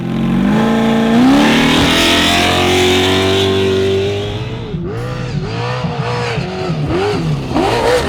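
A Mason off-road race truck engine, loud and close, holds a rising rev, then settles into a series of sharp throttle blips that climb and fall repeatedly.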